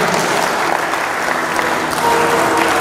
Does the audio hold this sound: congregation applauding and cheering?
yes